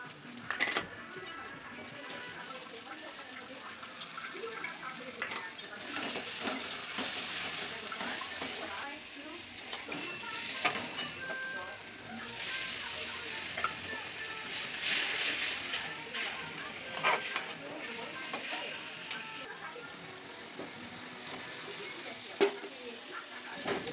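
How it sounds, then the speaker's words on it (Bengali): Onions and spices frying in a wok, a soft continuous sizzle with bursts of louder crackle and the scrape of stirring, fairly close but quiet. "আমি কড়াইয়ে পেঁয়াজগুলো চাপিয়ে দিলাম ভাজতে"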